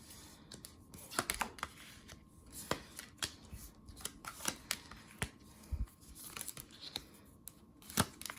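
Tarot cards being laid out on a table: a quiet run of light, sharp card slaps and soft sliding flicks, irregularly spaced over several seconds with a faint hiss behind, no talking.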